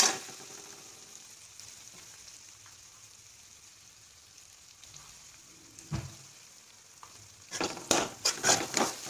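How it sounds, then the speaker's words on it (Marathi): Mixed vegetables for pav bhaji sauté in a pan with a low, steady sizzle. A few scraping stirs are followed by a burst of louder, rhythmic scraping near the end. "2-3 मिनिट आपण छान याला परतलेलं आहे"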